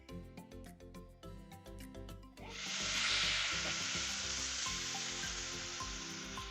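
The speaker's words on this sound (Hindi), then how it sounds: "एक 2 मिनट के लिए लहसुन को ऑयल में भूनते हैं।" Garlic and ginger paste frying in hot oil for a beef keema and potato curry: after a couple of quieter seconds, a loud, steady sizzling hiss bursts in and carries on close up with no one talking.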